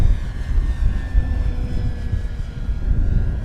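A Dynam PT-17 RC model biplane engine drones at a steady high pitch, rising and falling slightly as it flies by at some distance on a windy day, mixed with wind rumble.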